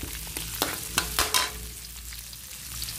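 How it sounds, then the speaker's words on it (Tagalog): Onion and garlic browning in a pan, with a close sizzle and a few sharp stirring scrapes and clinks near the start, settling into a quieter frying hiss, with no talk. "I-brown natin ang sibuyas at bawang para mabango"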